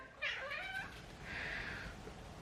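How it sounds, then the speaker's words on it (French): A hungry pet cat meows twice, a sharp rising call and then a longer drawn-out one after a short pause, both close and clear over a quiet indoor background. "Oui, mon petit chat!"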